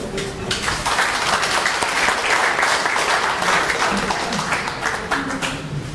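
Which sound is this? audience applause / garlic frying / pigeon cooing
audience applause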